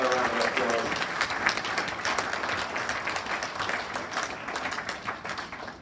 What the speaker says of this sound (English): Go on, give the Thurtle family another round of applause.